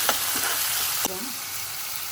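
Chopped tomatoes frying with onions in a pan for a spicy egg curry, a loud close continuous sizzle broken by a stirring scrape, with no talking.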